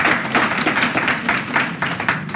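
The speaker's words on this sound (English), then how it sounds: "So let's all give a great round of applause to them." A symposium audience breaks into applause, dense overlapping clapping heard close and loud throughout the short moment.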